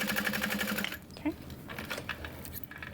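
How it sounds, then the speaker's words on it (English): Sewing machine stitching a seam across the bottom of a backpack, a steady rapid mechanical whirr for about a second, then quieter handling and faint clicks near the machine. "I'm gonna sew that in place."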